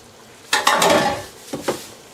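A spoon stirs paste into a pot of simmering beef brisket with daikon radish, giving two scraping, clattering passes of utensil against the pot. The first pass is longer and the second is short, over a faint simmer.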